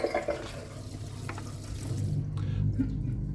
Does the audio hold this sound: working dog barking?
no